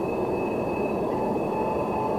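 A freight train on the Tehachapi Loop rumbles by steadily, with a broad low roar and a faint high metallic whine from the wheels throughout.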